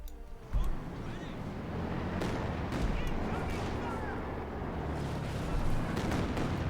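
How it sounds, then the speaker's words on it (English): A Katyusha rocket barrage rumbles in Company of Heroes 2, a dense, continuous roar of launches and blasts that swells sharply near the start and holds steady, with a voice talking over the battle. "Katyusha's rolling up here for Fire&Terror on the hill, ready to unleash another monstrous rocket barrage there against the Germans"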